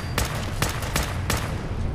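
Gunfire from a gun in the video game Fallout 4: four sharp, evenly spaced shots crack close and loud over a dense, constant background roar, with no talk.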